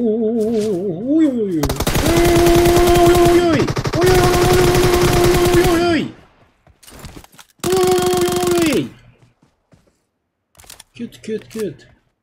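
Rapid automatic gunfire bursts from PUBG Mobile, loud and close in several long volleys with gaps between, mixed with game music tones and a person talking.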